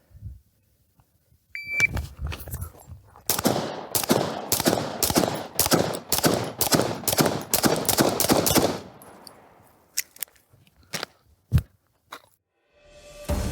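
A rapid string of gunshots fired at targets on a shooting course for the Anubis 50-round drill: a few shots, then a fast run of about a dozen sharp reports, then scattered final shots, each loud with an echoing tail.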